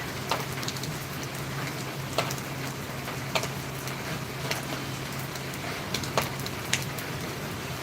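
Monsoon rain pours on a morning at the season's onset, an even hiss of falling water broken by occasional sharp drop ticks landing nearby, with no voices.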